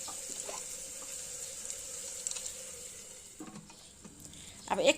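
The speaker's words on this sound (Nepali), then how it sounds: "आलु सँगसँगै भुटिन्छ मसला पनि।" Spice masala frying with potatoes in a pan for a bottle gourd and chickpea curry, a soft steady sizzle with occasional stirring clinks and a louder clatter near the end.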